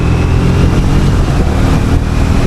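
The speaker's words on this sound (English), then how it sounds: "Exhaust note sounds louder here for some reason." A loud, rough Triumph Speed T4 motorcycle exhaust note rumbles continuously and close by, a gritty low roar with no talking over it.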